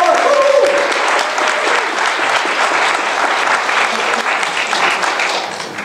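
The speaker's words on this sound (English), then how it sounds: "Give her a big hand." An audience at a business opportunity presentation breaks into loud, sustained clapping that fills the room and tapers slightly at the end.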